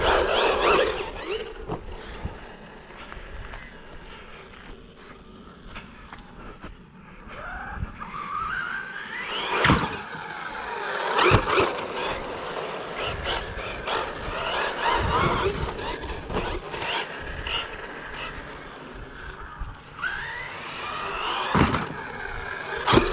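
A Team Corally Asuga XLR XL-scale RC buggy racing and landing jumps outdoors, with whining motor surges, tire scrabbles and sharp landing thuds recurring at mid distance.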